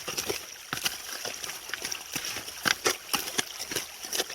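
Dirt and water are mixed by hand in a gold pan, giving repeated wet sloshing and splashing strokes in an uneven rhythm, close and moderately loud.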